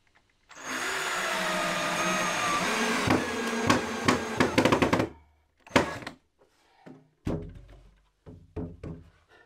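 A power driver whirs loudly for a few seconds as screws are driven into a wooden storage build for camping gear, followed by a cluster of knocks and several separate thuds.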